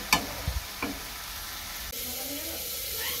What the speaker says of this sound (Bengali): গ্যাসের ফ্লেমটা লো করে এখানে মাংসটা কষতে দিয়েছি।